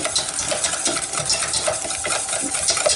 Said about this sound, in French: on va chauffer le mélange en battant, en remuant tout le temps